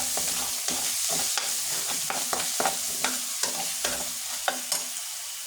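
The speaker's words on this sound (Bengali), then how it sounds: "লবণ, আমি ভালোভাবে নাড়াচাড়া করে নিই।" Spiced chicken with salt is stirred in a frying pan, a spatula scraping in quick, repeated strokes over a continuous sizzle, close and fairly quiet.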